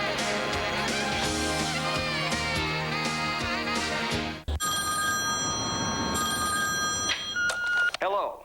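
A telephone rings in a loud, harmonic tone under someone talking for several seconds, then a brief pause gives way to a steadier electronic ringing with a beep near the end, as an answering machine would pick up.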